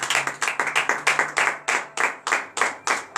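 A congregation at Wednesday morning prayer in Benin claps in unison, loud close rhythmic claps about three per second in a steady beat, with a faint hum beneath.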